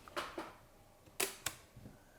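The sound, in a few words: cocking the shutter of a Godox Lux Senior camera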